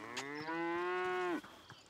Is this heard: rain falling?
no